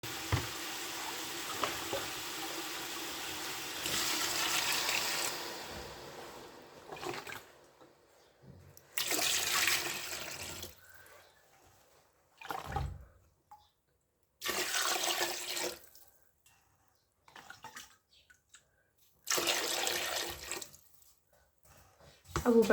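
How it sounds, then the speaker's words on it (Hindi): Water is poured from a vessel into a large cooking pot of pea pulao for 2 kg of rice, in several separate splashing bursts of a few seconds each, with quiet gaps between them. "अब हम चावल के हिसाब से पानी डाल देंगे।"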